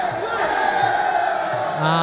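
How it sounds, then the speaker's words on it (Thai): At a Muay Thai boxing match, a large crowd roars and cheers continuously, loud and fairly close, with shouts rising out of the noise. "เสียงเฮเสียงเฮก็ สนับสนุนอยู่ตลอดเลยครับสายฟ้าครับ"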